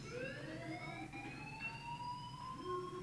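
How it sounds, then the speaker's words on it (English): A rising, wailing electronic alarm tone from the video game Life is Strange sounds steadily and fairly quietly over a low background hum, with no talking. "Do you hear that fire alarm?"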